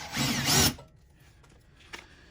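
A power drill whines loudly for about half a second, then cuts out, leaving quiet room noise and a faint click.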